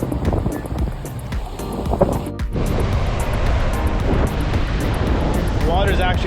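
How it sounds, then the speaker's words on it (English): Big ocean waves roll onto a beach in the Cayman Islands on a breezy January day, a steady wash of surf mixed with rumbling wind buffeting the microphone throughout. "It's got these breezes coming in today. Yeah, it's a good breeze, big waves."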